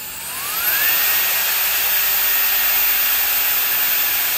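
A 130,000 rpm jet fan with metal and plastic parts spins up at its second speed into a loud, piercing high-pitched whine. A rising tone settles into a steady, hissing roar that holds to the end.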